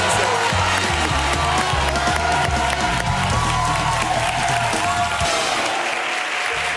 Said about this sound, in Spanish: vamos a darle otro aplauso